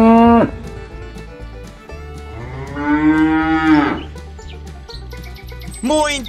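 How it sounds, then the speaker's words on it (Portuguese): A cow moos loudly and drawn-out in the middle, with shorter lowing calls at the start and end over a steady farmyard background. "o som da vaquinha é esse"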